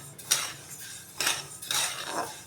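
Sesame seeds being stirred in a pan on a gas stove over high heat, three or four distinct rattling scrapes of a spoon against the pan at close range, with quiet gaps between them.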